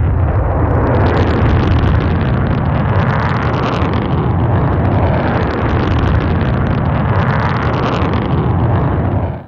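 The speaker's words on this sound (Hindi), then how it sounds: "पाकिस्तान का शाहीन 3 मिसाइल का शानदार कामयाब तजर्बा" Shaheen 3 ballistic missile launching in a test firing, a loud, sustained, rumbling roar that fills the entire stretch without pause and with no voices.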